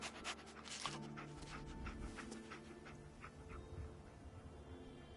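Dogmeat, the dog companion in Fallout 4, pants steadily and fairly close amid game ambience and a low rumbling backdrop, with a few faint whimpery breaths mixed in.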